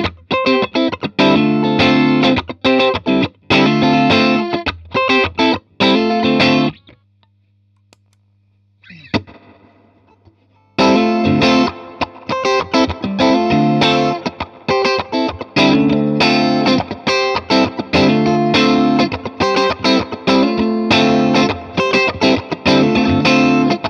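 Distorted electric guitar chords played through a Hungry Robot Pedals Stargazer reverb and modulation pedal, loud and choppy, breaking off once so a long reverb tail fades out before playing resumes.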